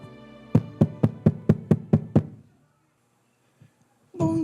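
Eight evenly spaced, firm knocks rap on a door in quick succession, then silence, with a faint thud and a voice starting at the very end.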